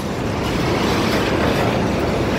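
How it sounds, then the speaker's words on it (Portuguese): A large freight train with a long locomotive and many wagons passes through the town of Jaraguá do Sul, a loud, continuous rumbling roar close by, steady and without talk. "um muito, muito grande essa locomotiva, com muitos vagões"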